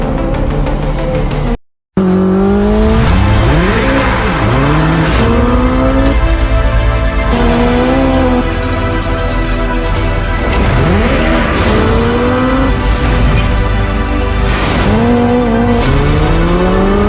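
A Hyundai RN24 high-performance electric car drives hard at close range, its tires squealing and skidding in repeated sweeping, rising and falling howls over a steady loud roar, with a brief dropout near the start.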